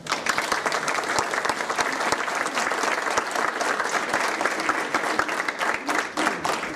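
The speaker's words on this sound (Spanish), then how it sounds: "del doctor José Woldenberg, para quien les pido un fuerte aplauso." Audience at an academic lecture on policy to defuse violence breaks into sustained applause, dense steady clapping from a sizable crowd filling the room without pause.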